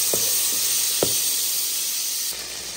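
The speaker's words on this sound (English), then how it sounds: "I'm gonna add some butter." Butter sizzling in a pan on a kitchen stove as yellow rice gets started, a steady bright hiss with a few faint clinks, then the sizzle drops slightly near the end.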